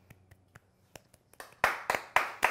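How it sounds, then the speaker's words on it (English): A few people clap in celebration of a newly installed door in a rental kitchen under renovation, starting with faint scattered taps and building to several close, louder bursts of clapping. "Round of applause for the manifested door."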